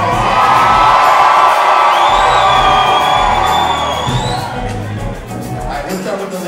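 Right-side concert crowd at a show at The Vogue, a loud steady wave of cheers, whistles and whoops that gradually tapers off.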